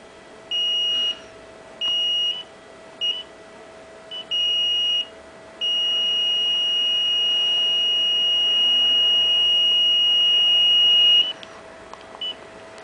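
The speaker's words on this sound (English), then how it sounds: "If you point it at the bag, an alarm should sound." A methane gas detector's high-pitched electronic alarm beeps in short bursts, then holds one long continuous tone for several seconds before cutting off, followed by brief chirps.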